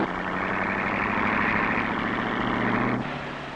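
Hot rods pull out onto a racing track one after another, a loud steady engine drone that cuts to a lower rumble near the end, no voices heard.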